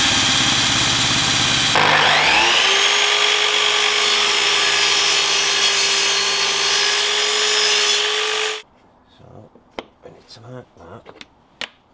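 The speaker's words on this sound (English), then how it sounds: "We then needed to drill a hole through the attachment pieces" A power drill whines loudly and steadily for several seconds while drilling a hole through wood, then stops, followed by scattered light knocks and handling sounds.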